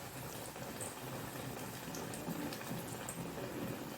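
Malabar spinach (basale leaf) bondas fry in a pan of hot oil, giving a steady, dense sizzle that runs unbroken throughout at moderate loudness.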